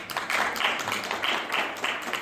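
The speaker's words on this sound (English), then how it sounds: "A round of applause." An audience at an investment forum breaks into applause, a dense patter of clapping hands that holds steady for a couple of seconds.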